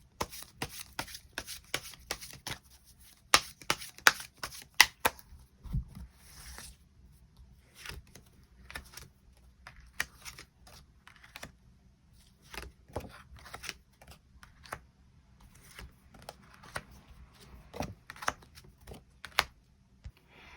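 Tarot cards being shuffled and drawn by hand, a run of soft, quick papery riffles and slaps in irregular bursts, close and fairly quiet against near silence.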